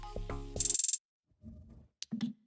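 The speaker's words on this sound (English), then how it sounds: "Next I added is this hat" Hi-hat in an Amapiano beat: a quick burst of bright, rapid ticks rolls over a thumping drum loop, then breaks off into a few scattered softer sounds, no voices.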